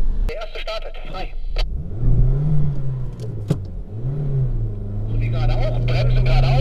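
A car starts and accelerates on a driving safety training course in Haltern am See, its engine note rising in pitch, dipping, then climbing again close by, with someone talking over it at times.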